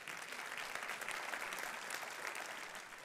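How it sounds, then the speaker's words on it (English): Steady applause from a political rally audience at the Freedom Summit, dense and continuous throughout with no talk over it. "you can clap for her"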